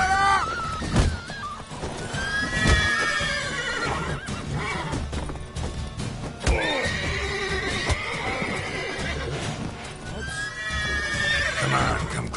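Horses neigh and whinny loudly in repeated drawn-out calls while hooves pound at a gallop in the Witcher 3: Wild Hunt video game, with clattering impacts and commotion throughout.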